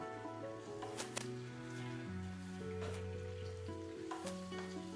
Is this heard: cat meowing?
no